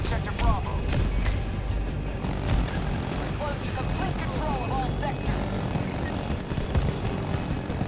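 A helicopter's engine and rotor drone on steadily throughout in the video game Battlefield 2042, with faint chirping effects and occasional thumps layered on top.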